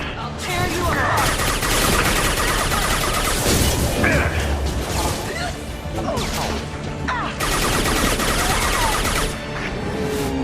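Heavy gunfire fills a Mass Effect 2 battle, with dense, loud overlapping bursts and crashing impacts that barely let up, pausing only briefly.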